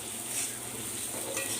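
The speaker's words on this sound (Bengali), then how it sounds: "আদা রসুনটা একটু জাস্ট ভাজা ভাজা করে নেব" Onion, ginger and garlic frying in a pan give a brief, quiet, steady sizzle with light stirring scrapes, heard close.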